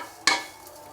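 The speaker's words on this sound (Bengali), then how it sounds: "নারকেলগুলো ঢেলে দিব" Grated coconut tipped into a hot pan for sesame coconut naru lands with a single brief sizzling rush, then fades into a soft, quiet hiss.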